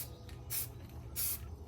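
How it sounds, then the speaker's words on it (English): Two short, light bursts of spray paint hissing onto an AR rifle for a matte camouflage coat, each lasting about a quarter second, fairly faint and close with no talking. "I'm just gonna like lightly spray it because I want that like matty look"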